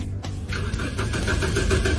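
A car's starter cranks repeatedly without the engine catching, a close, loud churning whir with a rhythmic pulse lasting about two seconds, after a brief click at the start.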